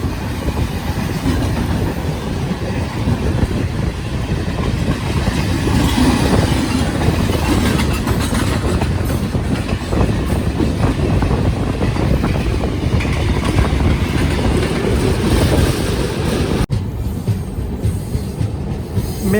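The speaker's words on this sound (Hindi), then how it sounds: "पंद्रह 909 अवध असम एक्सप्रेस।" Express train 15909 Avadh Assam Express rumbling past at close range, a loud continuous roar of wheels and carriages with rattling, lasting steadily before a sudden brief drop near the end.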